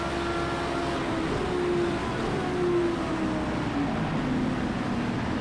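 A steady engine drone from a race car in the racing game Project CARS 2, during an IMSA GTD multiclass Rolex 24 race, continuous and even with a faint tonal whine over broadband noise and no distinct revs or shifts.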